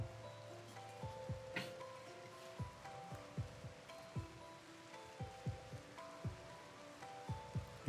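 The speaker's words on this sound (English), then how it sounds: "It has started to rain." Raindrops tap irregularly on a nearby surface, soft individual plinks scattered over a low steady background.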